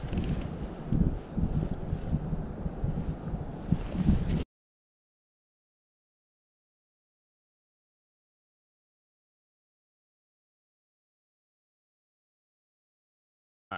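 Wind buffets the microphone outdoors during an opening-day winter trout fishing trip in New Jersey, a loud low rumble for about four seconds before it cuts to silence.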